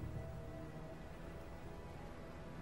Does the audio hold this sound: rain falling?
yes